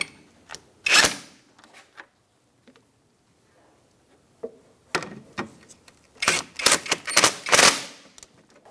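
Ratchet snugging up brake caliper bolts on a 2005-2010 Chrysler 300, sharp rapid clicking bursts separated by quiet gaps, close and fairly loud, with faint handling noises between.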